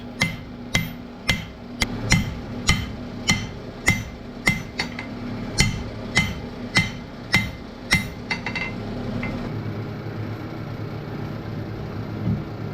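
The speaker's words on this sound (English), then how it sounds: "I am here, however, upsetting the bar in readiness for the tenon." Hand forging on an anvil, upsetting the end of a metal bar for a tenon on a jib crane: a series of loud, sharp ringing hammer blows at a steady pace, then the strikes stop and a low background hum remains.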